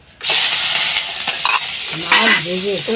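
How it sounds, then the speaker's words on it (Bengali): Silver carp frying in a pan makes a sudden, loud, dense sizzle that begins abruptly and holds steady, with a few faint clinks and a brief tonal squeak near the end. "মাছগুলো কড়া কড়া করে ভেজে নিয়েছে"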